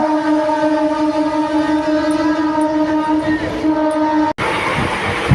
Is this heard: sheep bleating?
no